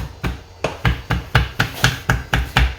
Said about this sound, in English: I rock the blade back and forth over the herbs, chopping them up